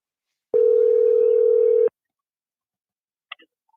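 Telephone ringback tone on a call line, one steady loud tone lasting over a second, followed by silence and a couple of faint clicks.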